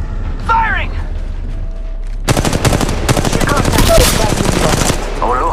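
Apex Legends Mobile gunfire: after a short in-game voice line, a loud automatic weapon opens up in a dense, rapid burst that keeps hammering for about three seconds and then trails off.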